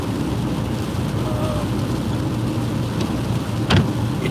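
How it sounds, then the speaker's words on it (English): Steady rain drums on a car while it drives, a dense continuous hiss with road rumble underneath and a brief louder splash or gust near the end. "It's raining."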